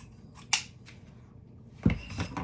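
Scissors snipping ribbon while making a bow, a couple of quick close blade snips and rustles, the last a louder crisp cut.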